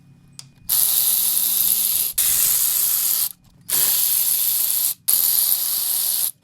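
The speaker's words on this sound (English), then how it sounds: "I'm going to get my little electric ratchet" Electric ratchet spinning out the transmission oil pan bolts on a Mercedes 722.6 automatic transmission, four loud whirring bursts of one to two seconds each separated by short pauses, close up with no talking.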